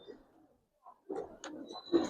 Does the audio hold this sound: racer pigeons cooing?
yes